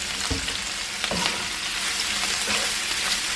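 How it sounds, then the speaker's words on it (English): Broccoli and bacon sizzle loudly in an oily pan, a constant bright frying hiss broken by a few soft knocks and scrapes as the food is tossed and stirred. "Tossing the broccoli."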